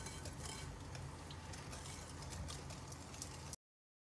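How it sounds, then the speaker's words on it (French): A whisk or spoon stirs cake batter with sugar and a pinch of salt in a bowl, making a steady, close scraping swish that runs continuously for about three and a half seconds, then stops dead. "Je mélange."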